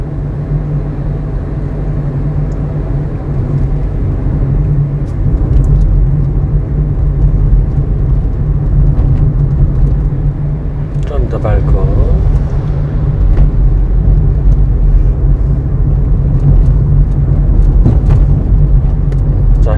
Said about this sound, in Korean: 다시 엑셀 밟고, 오르막이니까.